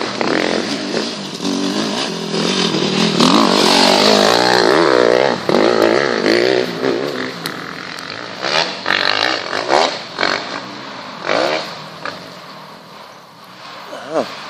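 Enduro motorcycles ride past on a Finnish forest trail, engines revving and rising as bikes approach then fading, with one pass after another over steady noise while a voice talks over them.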